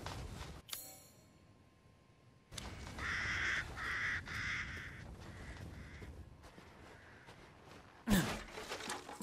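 A crow in Resident Evil Village gives several harsh caws in a loud burst mid-clip, set against a quiet game ambience with a sharp sound near the end, and nobody talks.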